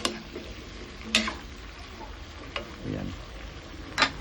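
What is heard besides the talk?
broccoli sautéing in butter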